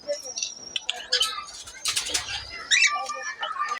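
Several pet cockatiels chirp and coo nearby in an aviary with bursts of wing flapping, lively and overlapping in a small enclosed space.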